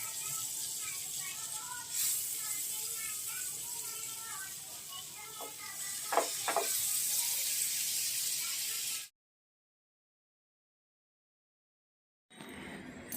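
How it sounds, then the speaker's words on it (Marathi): Paneer fries in butter in a frying pan, a steady soft sizzle and hiss with a few brief clinks, faint throughout, then a sudden silence before the sizzle returns at the end. "आता बघा, बटर घालायचा फ्राय पॅनवरती आणि आपले सगळे पनीर फ्राय करून काढायचे."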